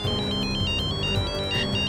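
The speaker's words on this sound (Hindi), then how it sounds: "मॉम एक मिनट, फोन आ रहा" A phone ringtone chirps in a repeating electronic pattern of short high beeps, steady and fairly loud over a low background of room sound, in a TV crime drama.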